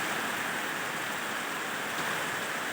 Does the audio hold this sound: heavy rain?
yes